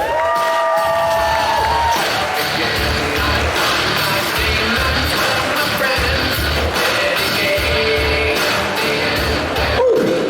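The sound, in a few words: audience cheering and applauding guests onto stage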